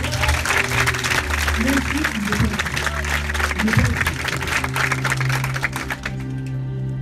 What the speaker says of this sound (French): Est-ce qu'on peut acclamer pour le Saint-Esprit?